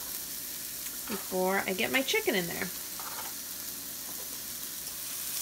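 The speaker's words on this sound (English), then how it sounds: "I like to hear that sizzling." Steady crackling sizzle of onions and garlic frying in a hot pan, continuing under a short stretch of speech and on after it.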